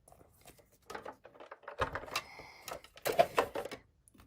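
A Sizzix die-cutting machine runs a piece of card through, giving close, uneven mechanical clicks, whirring and rattling bursts in a quiet room.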